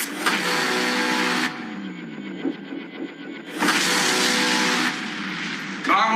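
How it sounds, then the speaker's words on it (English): Car engine cranking but failing to start in a TV show scene, two long harsh bursts of starter grinding separated by a quieter pause, loud and close. "Car won't start."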